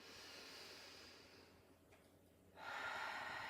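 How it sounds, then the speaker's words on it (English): A person draws a deep breath in slowly through the nose during an energy routine, a soft airy inhale under steady room hiss, followed by a brighter rushing exhale or breath near the end. "Take a deep breath in."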